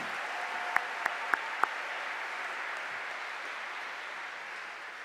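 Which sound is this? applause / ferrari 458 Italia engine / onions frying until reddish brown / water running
applause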